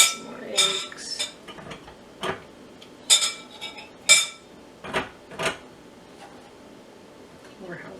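Peeled eggs and jalapenos drop into a glass jar for pickling, giving scattered close clinks and knocks of glass and utensils with quiet gaps between them.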